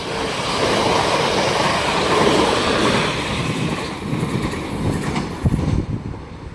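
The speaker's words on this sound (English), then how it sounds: "Now passing through is the 1058 South Western Railway service to London Waterloo." A South Western Railway passenger train bound for London Waterloo passes through St Denys station, a loud rushing roar with rolling wheel noise that fades into rhythmic clacking of wheels over rail joints as it recedes.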